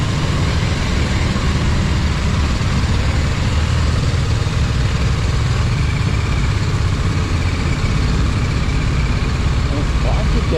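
Heavy road traffic in Coimbatore, heard from a BMW motorcycle: a dense, loud, unbroken roar of engines and wind that stays constant throughout.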